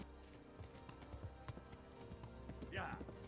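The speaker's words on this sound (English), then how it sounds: "Back onto Horsey" Horse hooves clip-clop at a steady pace as a character rides in a video game, faint and quiet beneath a person talking.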